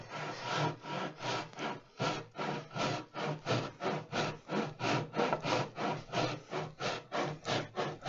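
A hand saw cuts through wood in steady back-and-forth strokes, about two per second, each a rasping rush that rises and falls. The sawing is close and even throughout.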